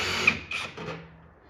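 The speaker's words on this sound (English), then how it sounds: "What if I could use my drill?" A power drill works on an arcade cabinet, sounding as short whirring bursts that start, stop and restart close by and then wind down.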